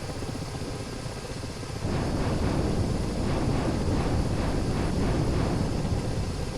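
A helicopter in a combat flight simulator game fires its guns. A steady rotor drone suddenly jumps louder after about two seconds into a loud, rapid, pulsing burst that continues to the end, with no talking.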